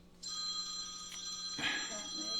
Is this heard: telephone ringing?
yes